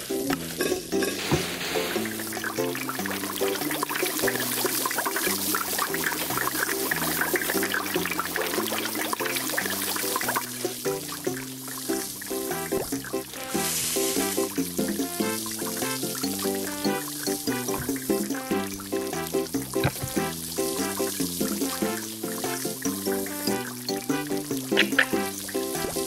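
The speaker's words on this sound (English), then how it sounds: "go and put the curly fries in the fry station" Curly fries sizzling in the fry station of Papa's Cheeseria, a steady close bubbling hiss of frying oil that runs continuously, with game music playing throughout.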